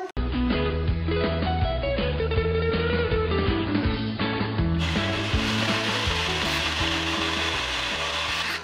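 A kitchen blender grinds guava chutney with a little added water, a loud continuous whirring grind that steps up sharply in pitch and intensity partway through, with no talking.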